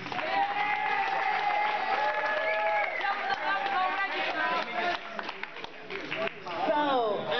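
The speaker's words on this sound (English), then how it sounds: "Give a big round of applause for Senator Brooks" Crowd applausing for Senator Brooks at a political rally, a dense steady wash of clapping with cheers and voices mixed in throughout, swelling again near the end.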